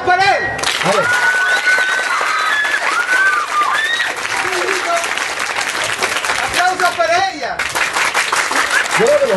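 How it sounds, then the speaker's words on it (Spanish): Lively applause and cheering from a crowd at a prize draw and team-building event, loud and continuous, with excited shouts and voices ringing over the clapping. "¡Aplausos para él!"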